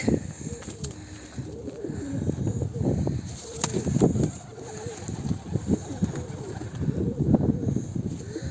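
A freshly caught arka tepe Mardin pigeon coos in low, rolling throaty bursts at close range, repeated through the clip over a steady background hum.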